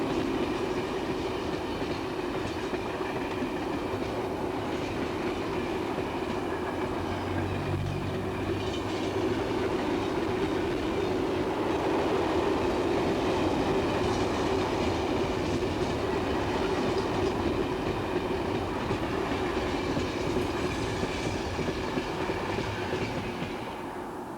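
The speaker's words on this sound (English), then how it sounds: "First comes an impressive train of freight wagons, representing all types and classes of traffic which can be found on the BLS today, hauled by an AE88 number 272 and an RE44" BLS freight train of mixed wagons on a Swiss railway, hauled by Ae 8/8 electric locomotive number 272 and an Re 4/4, passes with a steady, loud rumble and rail clatter throughout.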